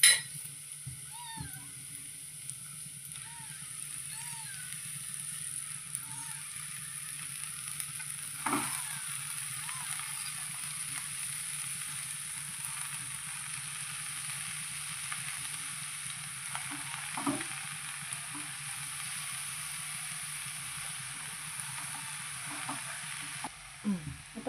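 Vegetables frying in a pan with turmeric and asafoetida, a steady sizzle with occasional clinks and scrapes of stirring, close and fairly quiet, with a voice talking at times over it.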